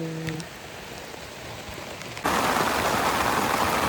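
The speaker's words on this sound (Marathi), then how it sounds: "पाऊस बघा कसा पडते एकदम जोरात" Heavy rain on a Konkan evening pours down in a dense, steady roar that suddenly swells louder partway through and stays loud to the end, with no voices.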